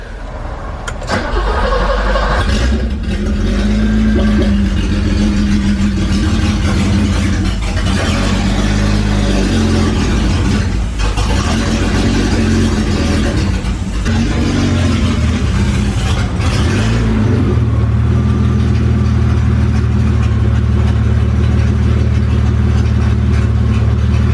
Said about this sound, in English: So yeah, it's a really good sign that the car actually starts.